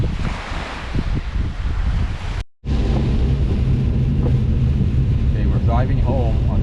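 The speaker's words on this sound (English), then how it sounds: "It's rain and really windy." Heavy rain and strong wind at Dollar Lake Park, a loud steady broadband roar with wind buffeting the microphone, briefly cutting out midway before resuming just as intense.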